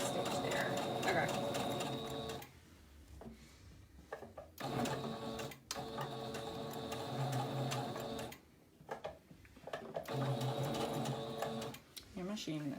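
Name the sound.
sewing machine stitching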